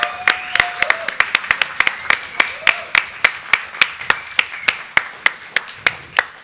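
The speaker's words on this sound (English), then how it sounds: "Let's get a round of applause for Warlords of the Deep." A few people in an esports broadcast studio clap loudly and evenly after a tournament finals match, with sharp close claps in a steady beat while a voice talks faintly underneath.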